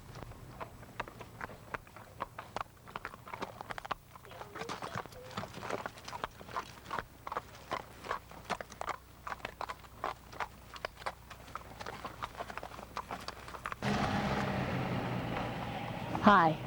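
Horses walking on a road, hooves clip-clopping in a steady, evenly spaced rhythm at close range, with talk over the hoofbeats and a louder noise burst near the end.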